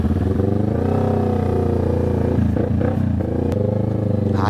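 A motorcycle rides along a trail on private property, its engine loud and close with a continuous droning hum and rough, clattering surges as it works over uneven ground.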